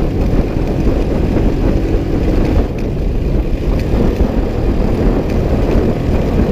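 Motorcycle engine running steadily while riding along a dirt road through the bush, a loud, continuous low rumble mixed with road and wind noise, with no voices.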